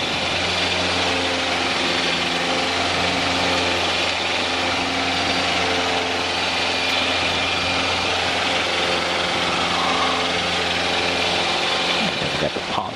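A light aircraft engine runs at full power for takeoff on a runway, a loud, steady droning roar with a constant hum throughout, while a pilot's voice talks over it.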